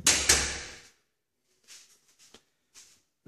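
An apartment building's entrance door in Antalya swings open with one loud, close clatter at the start, then a few faint soft knocks and shuffles in near silence.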